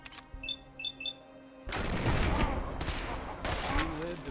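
Sustained burst of gunfire aimed at super mutants in Fallout 4, loud and dense with crashing impacts after a quieter stretch of beeping game sounds, with talk mixed in.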